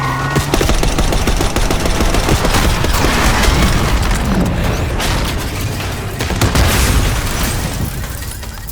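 Call of Duty Black Ops 6 gunfire: loud rapid bursts of automatic weapon fire with booming impacts, sustained throughout with a brief lull near the middle.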